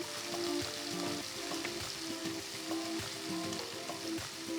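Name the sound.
chopped onions frying in a pan with spices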